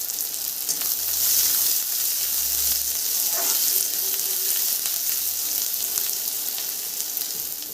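Chopped onions fry in a pan until reddish-brown, a cooking step for a kalmi greens dish, giving a steady, close, even sizzle with soft crackles and a faint stirring scrape, with no talk.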